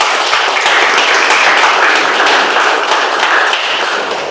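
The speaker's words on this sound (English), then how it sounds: "requesting everyone of you to give a thunderous round of applause for our host" A meeting audience gives the host a dense, steady round of applause, loud and continuous with no talk over it, holding strong before easing slightly at the end.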